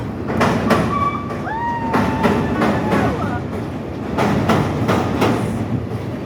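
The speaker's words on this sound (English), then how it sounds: "Oh, we got a train right there." A Chicago CTA elevated train rumbles and clatters past with rhythmic rail clacks and squealing wheels, fairly loud and close, heard from a river sightseeing boat, with faint voices mixed in.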